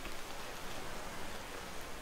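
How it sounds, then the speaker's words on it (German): Steady rainfall in the indie video game Orthoclase, a dense even hiss of drops on surfaces filling the whole stretch without pause, moderately quiet and with no voices. "Sonne, Regen, dem ich in der Tat zuhören kann."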